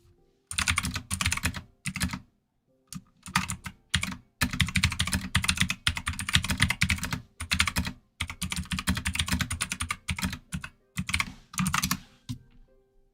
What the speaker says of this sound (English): Sorry for my keyboard. Probably very loud.